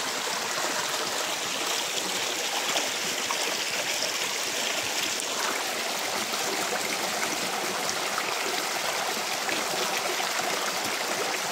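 Creek water flows in a steady, continuous rush, a broadband wash close by that holds even throughout with no voices.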